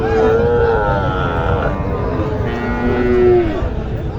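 A cow moos loudly and close by at a cattle market, two long drawn-out calls with a deep grunting undertone, with faint voices in the background.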